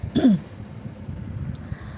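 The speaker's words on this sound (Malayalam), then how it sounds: "ഒരു തുമ്മൽ വന്നതാണ് പെട്ടെന്ന് ചുമ പോലായിപ്പോയി" A single sharp sneeze-like burst up close, breaking into a short rough cough, then quiet room sound.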